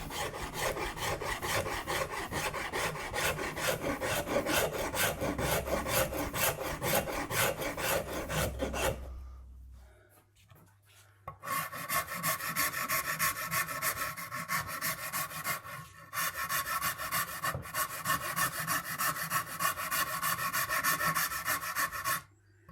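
Hand carving and rasping a wooden guitar body for a custom Les Paul, a steady coarse scraping that keeps a constant rhythm, stops briefly, then resumes, close and loud.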